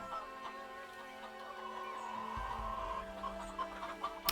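Chickens cluck and murmur around chicken farms in the city-building game Laysara: Summit Kingdom, soft and somewhat distant over a low ambient hum, with a few brief sharper clucks near the end.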